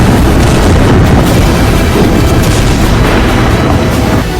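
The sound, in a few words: explosions from Israeli air strikes on Hezbollah base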